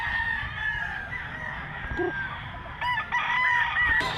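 A one-year-old white-legged gamecock crows once in a rural yard in Mantalungon, Cebu, a clear moderately near call with a short second burst after it over faint background noise.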